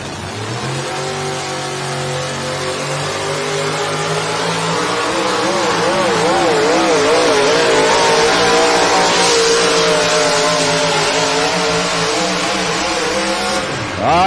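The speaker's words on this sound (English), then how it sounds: "Engine built specifically for this class in pulling. Mountain motor, Chevrolet Hemis basically is what they call them." A mountain-motor Chevrolet Hemi engine in a pulling truck with Dodge Dakota sheet metal roars and revs loudly at a truck pull in Rock Valley, Iowa, its pitch climbing and wavering steadily for about fourteen seconds before cutting off.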